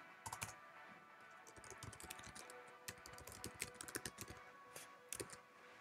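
Computer keyboard typing Python code, quick irregular clusters of crisp key clicks with short pauses between bursts, close and fairly quiet, with no one speaking.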